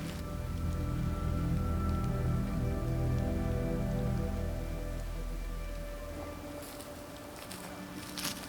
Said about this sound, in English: What is usually celebrated as the first rain after a dry season quickly turned into another concern.